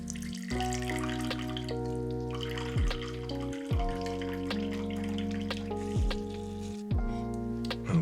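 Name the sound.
espresso machine flushing water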